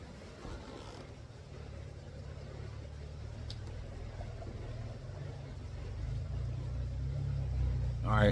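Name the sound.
truck driving past on the road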